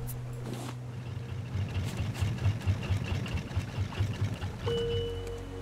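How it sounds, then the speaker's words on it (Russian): A boat engine running in the survival game Raft, a steady low idling drone with a pulsing mechanical rhythm and a tonal whine joining near the end. "можно двигателя вырубать, потому что ветер как раз к острову дует"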